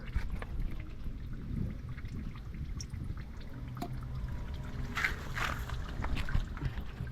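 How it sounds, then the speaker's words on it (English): Engine oil drains from a 2021 Ford Bronco into a catch bucket, a steady low pouring trickle heard up close that swells briefly near the end. "slowly drain that oil into the catch"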